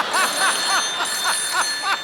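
A warbling electronic phone ring repeats in quick regular bursts, about seven pulses, loud and close, with no voices.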